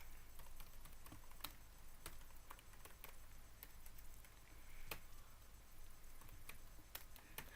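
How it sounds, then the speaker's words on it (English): Quiet, irregular clicks of keys being pressed on a computer keyboard, scattered taps and a few sharper strikes over a faint background hiss, with no talking. "If I can actually press my keyboard correct"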